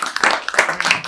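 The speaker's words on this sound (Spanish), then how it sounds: "Un aplauso para Ale, vamos." Applause at an end-of-season party, a burst of dense, close hand clapping with uneven bright slaps and some voices mixed in.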